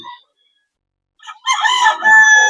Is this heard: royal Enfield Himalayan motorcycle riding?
no